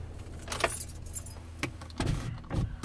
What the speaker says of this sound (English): I want to shut the car down